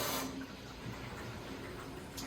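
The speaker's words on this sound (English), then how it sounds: "The water going through there." Water rushes through a whole house water filter right after the filters are replaced and the shutoff valve is reopened, a steady close hiss and flow that follows a brief louder surge at the start.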